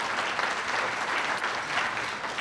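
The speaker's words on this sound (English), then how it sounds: "That's the real reason to applaud Father McElhinney." An audience claps steadily for Father McElhinney, a Jesuit priest, at an author award event, a dense, even wash of applause throughout.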